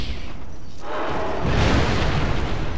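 A dense roar of noise swells midway into a heavy, rumbling explosion in Dark Souls 2 on PC that fills the rest of the moment.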